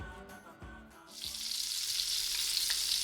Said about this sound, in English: That, my friend, is the unmistakable sound of sizzling bacon.